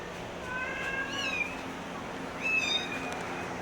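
Several cats meow in an animal shelter's cat room, two rising-falling calls about a second apart standing clearly over a steady low room hum, with no talking.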